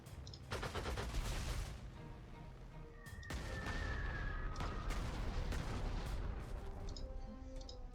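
Dive bomber attack in the Panzer Corps 2 strategy video game: dense, loud explosions and rapid gunfire rattle near-continuously, with sharp crashes layered over a low rumbling battle din and no talk.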